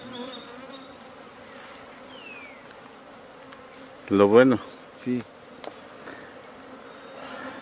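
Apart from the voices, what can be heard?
bees buzzing around a huge honeycomb during rescue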